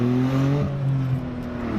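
A turbocharged Smart car with its muffler deleted revs loudly up close, its raspy engine drone rising and holding in a steady, slightly wavering tone with no talk over it.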